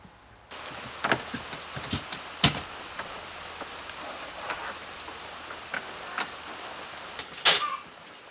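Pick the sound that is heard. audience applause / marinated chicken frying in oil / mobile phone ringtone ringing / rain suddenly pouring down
rain suddenly pouring down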